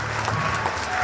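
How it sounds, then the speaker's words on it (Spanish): Steady applause from a church congregation, a dense wash of clapping with faint crowd noise, sustained and fairly loud for about a second. "Fuertes aplausos a nuestro Dios."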